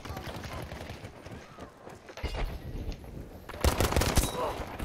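Gunshots in Battlefield V during sniping, scattered reports with a louder cluster of shots near the end, over game noise and some talking.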